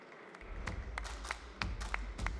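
At a conference stage event on construction data, an audience claps as a guest walks on stage: a thin scattering of distinct, moderately quiet hand claps, irregular and fairly sparse, with no voices.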